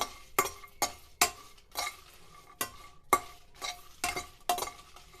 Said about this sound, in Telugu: ఇప్పుడు ఈ ఎండుమిరపకాయలు కూడా వేసేసేద్దాము రెండు కలిపి మనం వేయించుకుందామండి